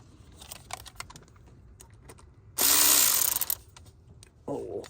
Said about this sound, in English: I'm going to go ahead and snug that down if I can find my wrench.